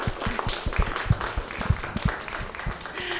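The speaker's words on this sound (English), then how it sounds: "Can we give everyone a round of applause?" An audience at a university panel on mental health claps in scattered, uneven beats over a few seconds, with voices mixed in underneath.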